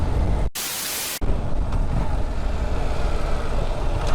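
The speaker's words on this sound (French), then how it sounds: "t'entends plus que le bruit du vent" Steady broadband wind roar from riding a Yamaha MT-07 motorcycle above 50 km/h, loud and continuous with a brief near-silent dropout early on, no talking.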